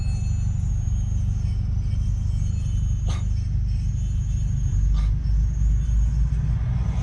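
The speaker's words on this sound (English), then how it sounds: "Someone nearby, their brakes are literally metal on metal." A steady low traffic rumble with two brief, sharp metallic screeches cutting through, a nearby car's worn brakes grinding metal on metal.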